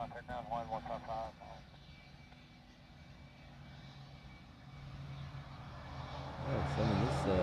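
At Honolulu airport a Boeing 717 airliner taxis with a steady engine whine that grows louder toward the end, while a radio voice and a nearby speaker talk over it.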